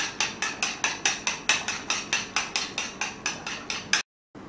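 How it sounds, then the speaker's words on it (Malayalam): Eggs are beaten until frothy with a fork or whisk against a bowl: a quick, steady series of about sixteen sharp rhythmic clinking strokes, close and moderately loud, ending abruptly. "ഈ മുട്ട നന്നായിട്ടൊന്ന് ബീറ്റ് ചെയ്ത് പതപ്പിച്ചെടുക്കണം"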